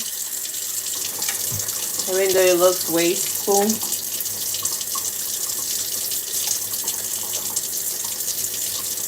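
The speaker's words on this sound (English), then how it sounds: "I like the sound of water" Water runs steadily from a tap into a sink for the full length, a close, even broadband rush, while a voice speaks briefly over it near the start.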